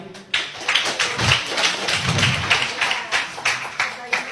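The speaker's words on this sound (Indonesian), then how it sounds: "Kita tepuk tangan sekali lagi." Audience clapping at a debate event, a scattered, uneven burst of claps with some thumps, moderately close, with voices in the background.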